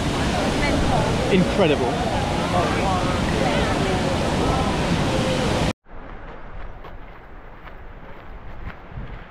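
Kawasan Falls rushes in a loud, steady roar of whitewater, then the scene cuts to a quieter, more distant wash of water with people talking briefly.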